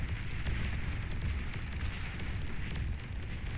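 Juno missiles launch in the strategy game Beyond All Reason, a steady rumbling roar with soft popping bursts, thick and continuous at moderate level with no clear talk.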